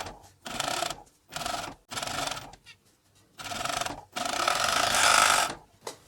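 Juki MCS1 coverstitch machine sewing ribbing onto a pocket opening, loud close bursts of fast motor-driven stitching in five runs of one to two seconds, the last longest, separated by brief quiet pauses.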